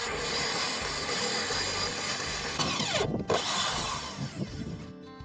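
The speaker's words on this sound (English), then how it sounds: "And now I'll use a smaller hole saw, a 51 mm one." A power drill drives a 51 mm hole saw, making a steady, close grinding whine that briefly drops out partway through, then picks up again with rattling.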